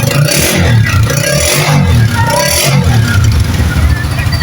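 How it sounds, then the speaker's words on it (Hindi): Honda 125 motorcycle with a freshly assembled cylinder head, its silencer exhaust running loud and close, a steady throbbing idle with rapid pulsing clatter throughout. "सलेंसर का साउंड भी आपको मैं सुना देता हूँ"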